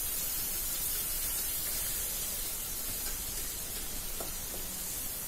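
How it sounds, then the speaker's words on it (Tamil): Onions sauté in hot oil in a pan over a medium flame for sambar rice, giving a steady, dense sizzling hiss that continues unbroken, with faint stirring clicks now and then. "அந்த வெங்காயத்தை அதுல ஆட் பண்ணி நல்லா வதக்கிக்கோங்க"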